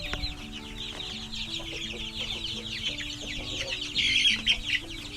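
Darag native chickens cluck repeatedly close by in a farm setting, with overlapping hen calls that grow busier and louder toward the end.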